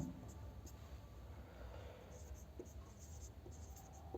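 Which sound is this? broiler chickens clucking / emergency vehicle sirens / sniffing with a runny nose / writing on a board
writing on a board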